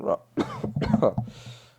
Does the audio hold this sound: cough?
yes